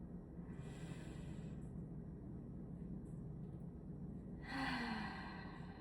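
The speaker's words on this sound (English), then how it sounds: "Let's take one more breath like that." A soft, deep breath during a gentle yoga session: a faint airy inhale and exhale around a quiet pause, then a slightly fuller sigh-like breath near the end over low background hiss.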